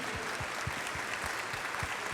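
A church congregation claps during a Wednesday service. The applause is faint and distant, with a soft, even patter and a regular rhythmic pulse of low thumps beneath it.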